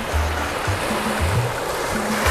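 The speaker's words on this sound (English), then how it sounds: "The Prior River meeting the sea in Shama." The River Pra runs into the sea at the Shama estuary, a loud, continuous rush of flowing water with an intermittent low droning hum beneath it and no talking.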